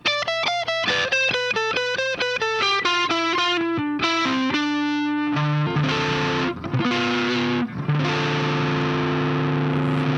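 Electric guitar through distortion and effects, playing a run of melodic notes in D Dorian before settling into sustained, loud chords, alone with no voice.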